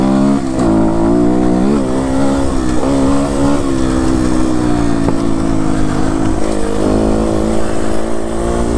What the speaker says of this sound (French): Puis avec la moto, ça fait du bruit.